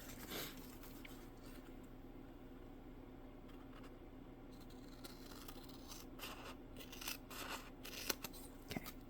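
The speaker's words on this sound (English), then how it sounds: "I'm probably going to trim that off." Scissors trimming the edge of a paper envelope for a layered flip card, a series of quiet, close snips and slicing crunches that grow more frequent toward the end, with no voices.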